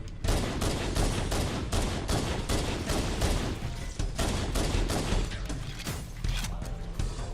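Pistol fire in a video game, a loud dense stream of rapid sharp shots layered with mechanical clatter, continuous and close throughout with no speech.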